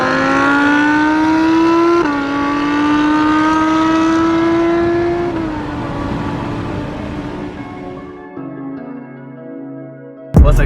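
Nissan GT-R engine revving loudly outside the car, rising in pitch with a couple of gear-like shifts before fading toward idle, ending in a sudden sharp thump.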